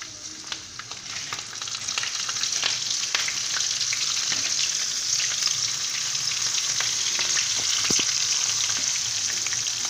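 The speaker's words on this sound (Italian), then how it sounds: "ecco il nostro olio bollente buttiamo i gamberi" Shrimp sizzle and crackle in hot oil, a dense, continuous frying hiss with scattered pops throughout.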